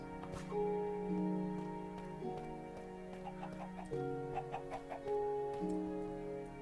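Chickens clucking over steady tonal music, a few short sharp calls standing out in the middle and latter part, moderately quiet and fairly close.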